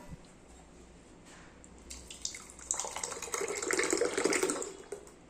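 Buttermilk is poured back and forth between vessels: quiet at first, then a splashing, gurgling stream builds from about two seconds and grows steadily louder before easing off near the end.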